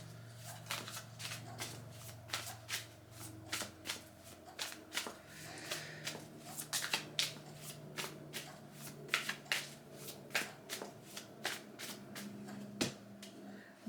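A tarot deck is gathered up and shuffled: a long run of close, rhythmic riffling flicks and soft card slaps, steady and brisk, with no talking.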